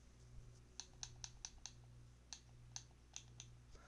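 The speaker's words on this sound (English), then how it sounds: "I'm going to mute it so you guys don't hear all this clicking." Computer mouse and keyboard clicks while playing Minecraft: a quiet, close series of sharp clicks, mostly single taps in short bursts with small gaps, over a faint low hum.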